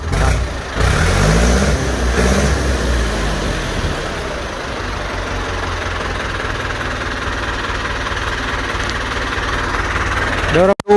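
A Ford farm tractor's diesel engine runs close by with a steady, rough idle and knocking chug, briefly revving louder at the start, while people talk over it.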